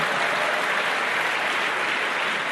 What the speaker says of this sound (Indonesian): Anda tepuk tangannya nggak terlalu yakin loh bahwa itu terjadi.